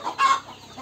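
A caged Khaduk breed hen gives a short, close cluck, a quick two-part call lasting under a second.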